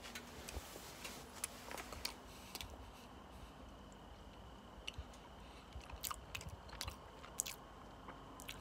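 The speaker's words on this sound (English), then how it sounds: "Can't speak because I have brownie in my mouth." Someone chews a bat-shaped frosted brownie close to the microphone, with soft, wet irregular squishes and small clicks over a quiet background.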